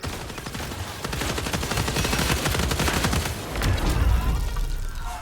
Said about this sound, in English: Ah, the damn chem grenades,